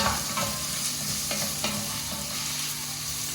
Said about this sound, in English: I put the carrots now, because they take longer than anything else.